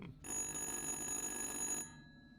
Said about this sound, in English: What's that noise? That's a phone.